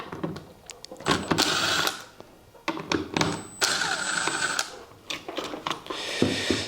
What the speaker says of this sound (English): So now with the Torx T20, we can release these screws here that do operate the M1 and 2.